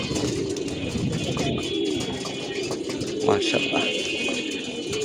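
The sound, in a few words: pigeons cooing on a rooftop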